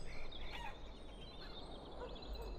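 Chickens cluck and gobble softly in Dragon Age Origins, faint fowl calls drifting over a quiet ambient background with no talk.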